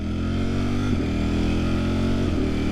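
Ducati Streetfighter V4 motorcycle engine while riding, a loud, steady droning hum near the microphone with a brief shift in pitch partway through, no speech over it.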